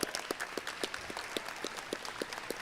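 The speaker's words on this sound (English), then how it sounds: "Let's give him a big round of applause." A gala audience at the FAMU Sports Hall of Fame claps in a faint, steady patter, with a few louder hand claps standing out over a soft, even wash of sound.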